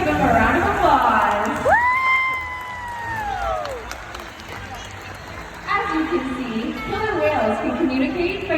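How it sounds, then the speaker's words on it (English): Crowd at a SeaWorld San Antonio orca show during a Halloween event breaks into applause and cheering, a broad wash of clapping and shouts with chatter in the stands and a loud whistle-like tone sweeping through early on. "Let's give them a round of applause."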